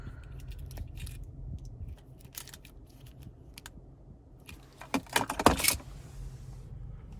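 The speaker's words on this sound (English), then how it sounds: "here's that key fob with remote start" A 2022 Hyundai Tucson Limited key fob with remote start clinks and jingles in a hand, with soft handling rustles early on and a louder burst of metallic jangling near the end.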